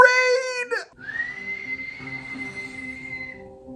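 A short wavering high tone gives way to a long, steady whistled note held over a faint low background hum.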